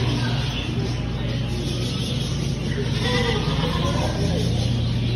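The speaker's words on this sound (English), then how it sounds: "We got lots of goats here." Goats bleating in a farm pen, a few short bleats rising over a constant low hum and a busy outdoor background, with people talking nearby.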